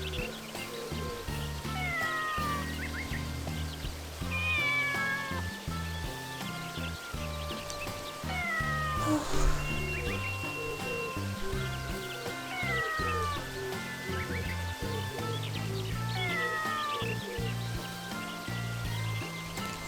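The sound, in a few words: cat meowing in a feudal rice farming video game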